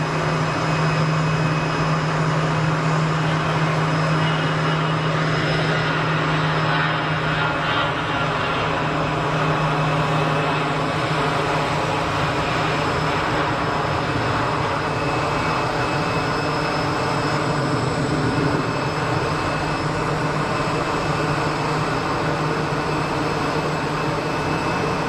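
A Boeing 777-300 airliner bound for Dubai roars at Geneva Airport, a continuous broad jet rumble and whine that holds steady over the whole stretch, heard from a distance.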